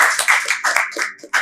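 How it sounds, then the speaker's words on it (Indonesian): A small group at a school organization talk show claps hands in a short, uneven burst of sharp claps, close and fairly loud, with no voices. "Tepuk tangan dulu dong."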